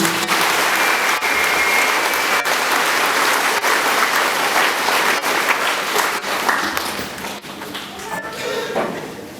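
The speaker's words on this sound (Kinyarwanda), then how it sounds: "Tubasangane tubakomere amashyi." An audience at a parish choir's 20th-anniversary celebration applauds loudly, a dense, sustained clapping that fills the whole stretch and tapers slightly near the end.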